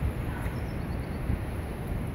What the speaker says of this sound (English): It's a nice day, but very, very cold and windy